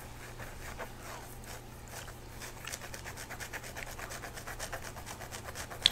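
Soft, close scratching and rubbing in an ASMR setting, a quiet rasping stroke repeated in an even rhythm over a faint hum, with no speech.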